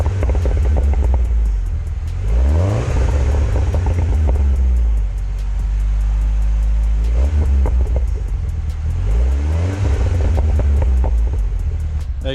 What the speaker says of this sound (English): There you go, I gave you a little bit of pops and bangs